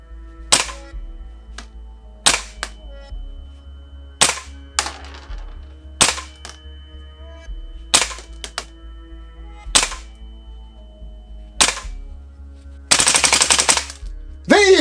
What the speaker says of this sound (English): whenever I do a gas blowback rifle on full auto, I never get the rounds per second.